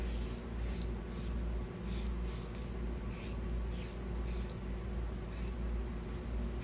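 A close, steady hiss of shine and protection spray misted onto the plastic body panels of a wrecked 2022 Polaris Sportsman 450 HO ATV, running continuously for several seconds with faint pulsing and no talking.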